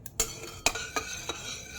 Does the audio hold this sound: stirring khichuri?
yes